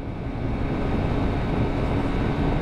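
A 2022 Sinnis GPX 125 motorcycle engine runs steadily at high revs, a continuous loud buzzing drone that holds even throughout with no voices over it.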